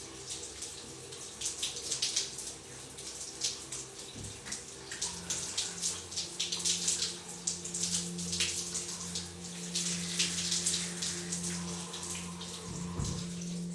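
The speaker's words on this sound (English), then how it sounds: "So with the clean dirt, I just turn into the stream of water to rinse." A steady stream of water runs and splashes over skin during a rinse with no cloth or scrubbing, a continuous close hiss with a low hum underneath.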